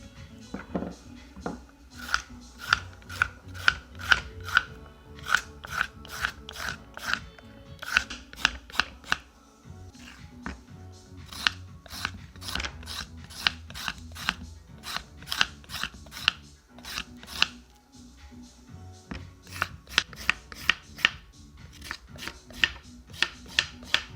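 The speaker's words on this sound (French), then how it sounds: "Ici, on va commencer par éplucher les carottes." Carrots being peeled for a cod blanquette, repeated short scraping strokes in irregular bursts, close and fairly quiet, with no talking.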